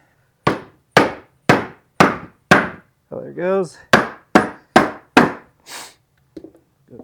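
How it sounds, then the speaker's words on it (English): A hammer pounds a decades-old golf cart motor to pop its gasket loose: about ten sharp, evenly spaced metallic blows, close and loud, with a brief spoken remark in the middle. "Gotta pop the gasket, so I gotta go grab my hammer again."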